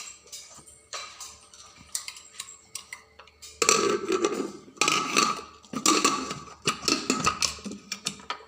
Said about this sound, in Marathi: आता कुकर आपण गॅसवर ठेवूया.